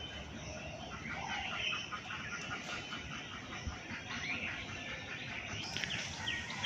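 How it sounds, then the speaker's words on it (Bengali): Small birds chirp and call faintly in a rooftop garden early in the morning. Scattered tweets rise over a steady low background hum. "পাখিগুলো ডাক হয়তো শুনতে পাবেন।"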